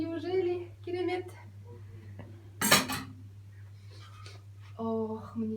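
Bowls and plates are set out on a table for ayran or natural yogurt while a home cook prepares a maqluba dinner. A sharp ceramic clatter sounds once between stretches of talk.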